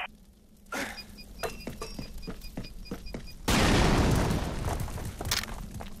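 A subsonic grenade goes off in the shooter game Fracture. A loud, close burst with a long rumbling tail comes after scattered thuds and gunfire-like pops, and no one speaks.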